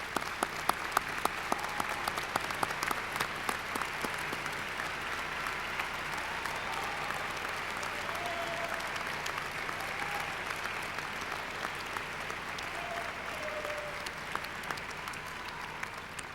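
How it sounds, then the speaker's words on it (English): Commencement audience at a university graduation ceremony applauds steadily, a dense sustained wash of clapping from a large crowd that holds at even loudness throughout, with no talk over it. "salute you with our applause."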